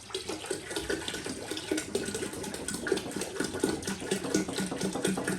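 A gallon of water pours into a brew pot during five-gallon beer brewing, giving a steady splashing, gurgling flow that stays close and fairly quiet throughout.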